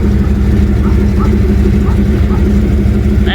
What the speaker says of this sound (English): That's the Flowmaster we just installed.